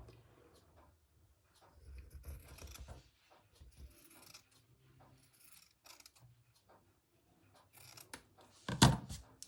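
Scissors snip through a piece of embroidery fabric being trimmed to size, with soft rustling and handling noises leading up to one sharp, close cut near the end, heard alone.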